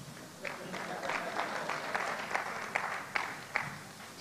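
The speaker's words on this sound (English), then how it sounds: "Round of applause for the dollar man." Audience applause at a career development event, a fairly quiet, uneven patter of claps from a modest crowd with a few sharper individual claps standing out over about four seconds.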